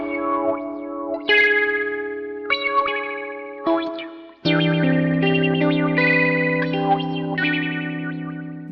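A Mode Machines Krautrockphaser effect processing sustained synth tones, its sweeping phase shifts changing as the speed control is varied, with distorted, chorus-like swirls across several held chords and no voices.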